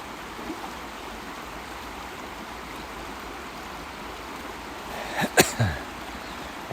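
Steady outdoor river water rushing and babbling in summer where a dog swims, continuous and close, with a brief splashy burst of movement near the end.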